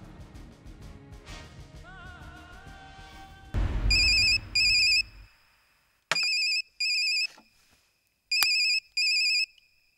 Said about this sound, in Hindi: एड़ा का फोन है